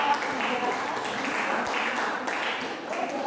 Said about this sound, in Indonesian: berikan aplaus kepada kelompok